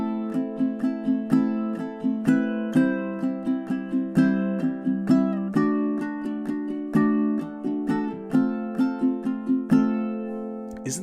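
Ukulele strummed and fingerpicked in a rolling 6/8 pattern through House of the Rising Sun, evenly spaced chord strokes with a lilting triple swing, close and clean with no voices.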